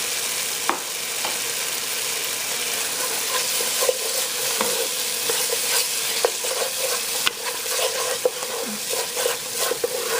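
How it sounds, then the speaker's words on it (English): A spoon stirs tomato paste and curry in a hot pan, a steady close sizzle with repeated scraping and light clinks against the pan. "we're going to give this a good stir"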